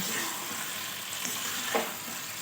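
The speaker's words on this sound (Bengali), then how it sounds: "দিয়ে ঘেটে নেড়ে চিড়ে মাখো মাখো হয়ে গেলেই নাবিয়ে নেবো" Rohu fish head chhechra with fried onions sizzles steadily in a pan while a spatula stirs through it, a soft continuous frying hiss with faint scraping and no voices.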